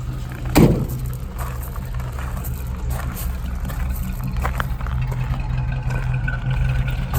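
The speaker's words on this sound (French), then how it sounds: "Moteur qui tourne très bien, qui ne fume pas" A vintage Mercury Eight sedan cabriolet engine idles nearby in an even, continuous low rumble, with a brief louder knock near the start and no talk over it.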